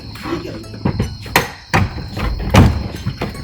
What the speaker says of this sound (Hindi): हथौड़ा